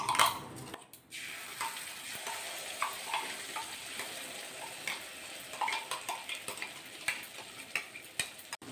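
Ground spice paste frying in oil in a pan while cooking paneer lababdar, a continuous soft sizzle broken by frequent stirring clicks and scrapes, close and fairly quiet, with no voices.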